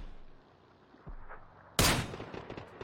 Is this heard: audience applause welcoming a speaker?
no